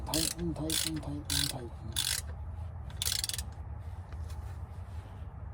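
A hand ratchet tightens the bolts on a rear differential cover, giving several loud, evenly spaced clicking bursts near the mic that thin out over a steady low hum.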